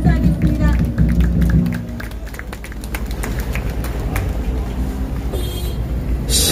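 A crowd at a street rally outside Gangnam Station in Seoul claps in scattered, fairly quick bursts over several seconds, under a voice speaking over loudspeakers.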